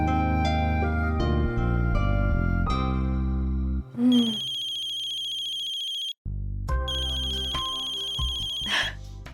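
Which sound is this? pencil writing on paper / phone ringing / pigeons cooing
phone ringing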